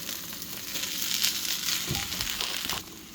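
An oversized hash brown sizzles steadily in a frying pan, with a few scraping, shuffling bumps as it is flipped over.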